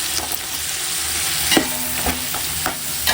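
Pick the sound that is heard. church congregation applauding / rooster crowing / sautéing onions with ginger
sautéing onions with ginger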